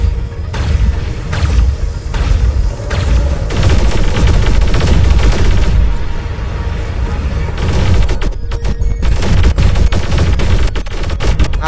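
Robot gunfire in the War Robots video game, with dense rapid bursts of automatic shots and heavy booming blasts overlapping almost continuously at high volume.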